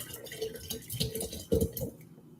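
Cherry cola flavouring is poured into Pepsi in a home kitchen, producing soft dripping and splashing liquid sounds with small clinks, a louder splash about two-thirds through, then quiet.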